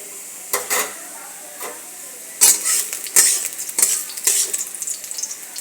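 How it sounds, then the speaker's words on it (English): Eggs cracked into a hot pan for egg chowmein, bursts of sharp sizzling and spatter building up as they fry, with scraping stirs and utensil knocks, close and fairly loud. "Now I'll put some eggs."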